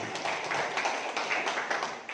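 People gathered at a village event in Adiwarno clap in quick rhythmic bursts for a local politician, the claps blending into a steady, moderately loud patter.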